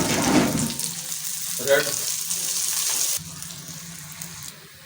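Chopped onion dropped into hot ghee for keema tikki crackles and sizzles loudly up close, with a brief stirring scrape partway through; a voice speaks briefly over the frying.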